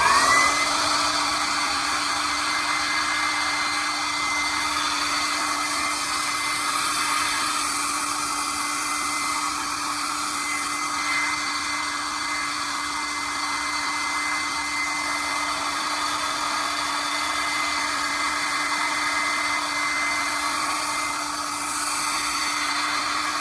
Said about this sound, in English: Or I'll dry it with the blow dryer.